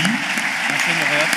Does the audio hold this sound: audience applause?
yes